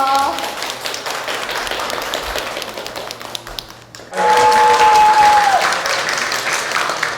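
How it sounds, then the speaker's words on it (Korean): An audience at a public lecture applauds to welcome a speaker onto the stage, a dense spread of clapping that swells louder midway, with a steady tone and a voice over it. "나오실 때 큰 박수로 맞이해 주십시오."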